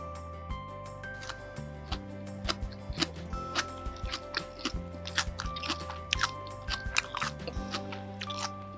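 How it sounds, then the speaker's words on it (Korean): Close, crisp crunching and chewing of freshly made Korean chive kimchi, repeated bites in an irregular rhythm with no talking. "부추 한번 먹어볼게요"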